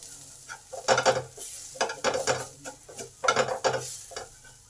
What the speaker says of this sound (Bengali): এবার সমস্ত মশলা ভালো করে একটু কষে নেব।